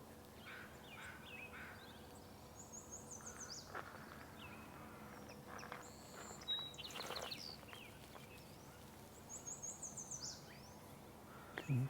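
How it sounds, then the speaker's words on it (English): Faint, distant northern yellow warbler song in a marsh at high tide: short bursts of high, bright chirps repeat a few times over a quiet outdoor backdrop with soft insect hum. "Can definitely hear that northern yellow warbler"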